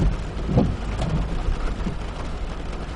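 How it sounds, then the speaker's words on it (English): Steady heavy rain hisses continuously, dense and close, with a low rumble underneath. "I think it's raining harder now than it has all freaking day."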